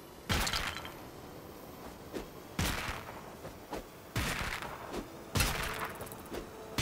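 Explosions from the South Park video game, fired to blast open a red rift: four sharp, loud bursts spaced about a second and a half apart, each with a brief crackling tail and no voices.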